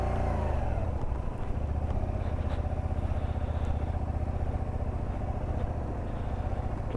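A Honda Varadero motorcycle engine labours and revs continuously up close while the bike is pushed up soft, marshy ground, a dense steady throbbing drone with slight rises in pitch.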